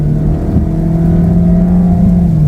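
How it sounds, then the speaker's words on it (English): A 2018 Volkswagen Tiguan SUV engine in sport mode drones loud and close, holding a high steady rev with a slight rising pitch throughout. "Sports mode holds the revs out for much longer."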